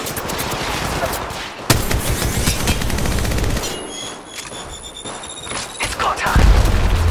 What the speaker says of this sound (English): Shots coming!